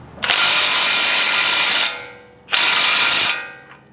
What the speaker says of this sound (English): Hopefully my impact wrench is capable.